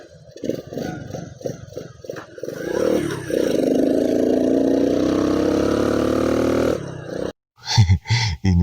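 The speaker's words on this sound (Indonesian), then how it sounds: "kayaknya kalau ini kita bakal nyalain mesin ini" An old car's engine starts and runs at a steady idle on a slight uphill road in Malang, loud and close, with earlier mechanical clatter and a brief cutout near the end.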